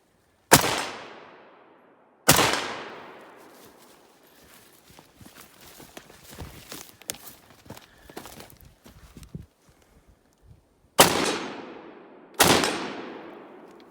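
Four loud, sharp rifle shots from a Gewehr 41 or SVT-40 crack out at uneven intervals outdoors, each with a long decaying echo, and a stretch of clattering handling and rustling noise fills the gap between the second and third shots.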